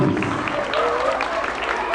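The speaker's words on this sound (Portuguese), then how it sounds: "Cadê os aplausos para a professora Daniela Nunes?" Audience applause at a school dance performance, a steady wash of clapping from a crowd lasting a couple of seconds, with some faint voices mixed in.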